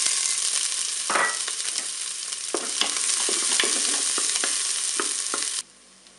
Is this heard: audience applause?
no